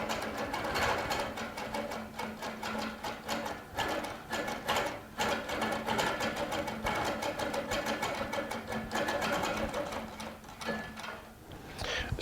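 A Baby Lock Regent sewing machine quilts a curve down the centre of a fabric strip using a ruler, with rapid, continuous, close stitching that stutters through brief slowdowns and pauses.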